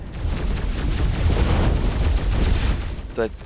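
Kinetic weapon fire rattles in the game Overload as a dense, continuous stream of rapid shots, loud and steady, with a brief voice near the end.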